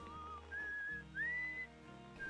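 Whistling melody from the video game Outer Wilds, a clear tune of sustained notes with slides between pitches, faint and alone over a soft instrumental background.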